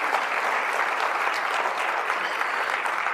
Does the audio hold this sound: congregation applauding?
yes